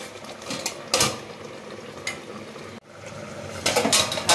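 A lid comes off a pot of Bengali-style prawn and ridge gourd curry with metallic clanks and scrapes, amid a soft kitchen background and a faint sizzle.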